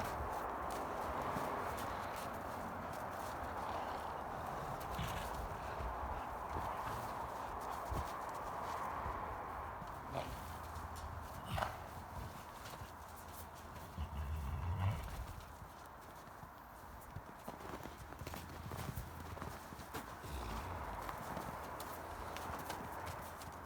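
Horses at winter feeding time walk up through snow and drop to roll, steady hoof clops and shuffling close by with occasional soft snorts against a constant outdoor wash, no talking.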